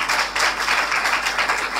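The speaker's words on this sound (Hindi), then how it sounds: "आप सबकी ज़ोरदार तालियों में" A church audience applauds together, a dense, steady patter of clapping that holds at a fairly loud level with gentle swells.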